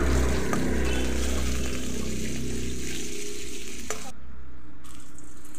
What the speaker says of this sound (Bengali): তেলটা ভালোভাবে গরম হয়ে গেলে এখানে কাঁচা লঙ্কাগুলো ভেজে নেব হালকা বাদামি করে